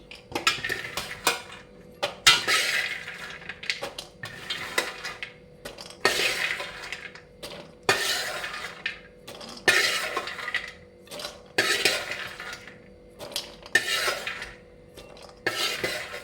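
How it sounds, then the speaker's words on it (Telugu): Pistachios tossed into a pan and stirred while roasting for a nut powder, a metal spoon scraping and clinking against the pan in repeated bursts of stirring, loud and close, with no talking. "ఇప్పుడు పిస్తా కూడా వేసేసుకుందాం"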